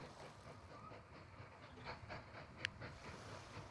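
Trains moving in the Mashinky railway-building video game: a faint, steady rumble with soft rhythmic clatter, plus one sharp brief click near the end.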